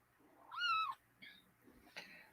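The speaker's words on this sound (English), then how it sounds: "He's meowing at me." A pet cat named Loki meows indoors, one rising-falling drawn-out meow followed by two shorter, fainter chirping meows, fairly close and with no talking over them.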